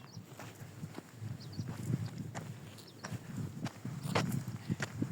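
Horses walk in the mountain valley of Jeti Oguz, Kyrgyzstan, their hooves clip-clopping in an uneven, overlapping rhythm at moderate distance under steady outdoor ambience.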